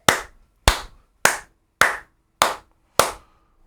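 Six slow, evenly spaced hand claps ring out sharply and alone, each crisp smack followed by a brief decay.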